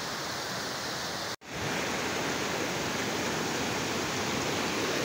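Water pours from small pipes used for washing cars beside Lake Lulusar in Pakistan, a steady broadband rushing splash heard up close, with one very brief dropout near the start.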